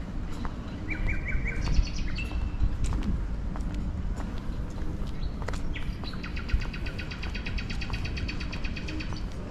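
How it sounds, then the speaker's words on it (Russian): Birds chirp and trill in the background over steady outdoor street noise in Alushta near the Black Sea promenade in winter, with scattered clicks and footsteps. "Ну, птички всегда поют."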